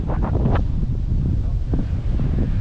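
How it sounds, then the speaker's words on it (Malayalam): Strong wind gusts across the microphone on the rocky hilltop of Kudukkathu Para, a loud, continuous low rumble with brief buffeting surges. "നല്ല കാറ്റുണ്ട്."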